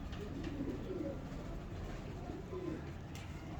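Soft, low cooing of pigeons, a few rolling calls close by over a quiet, slightly noisy background.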